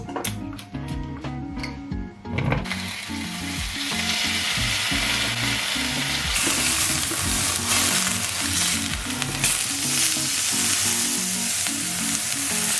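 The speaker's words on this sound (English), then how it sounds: "just literally frying that and frying some bacon" Bacon frying in a hot pan gives a steady, loud sizzle and crackle that runs the whole time, with some rhythmic clatter of a pan or utensil at the start.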